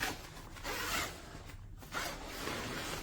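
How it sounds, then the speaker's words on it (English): A cheap zipper on a camping mattress is tugged in short, scratchy bursts that stall and restart as it sticks, close up and fairly quiet, with no voices. "Zipper stuck again."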